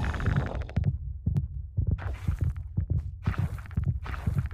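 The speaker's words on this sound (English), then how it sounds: "The heartbeat thing is really, really trippy." The Warden's deep, throbbing heartbeat in Minecraft, a steady run of low thumping beats spaced roughly every half second, loud and close with faint ambient hiss between pulses.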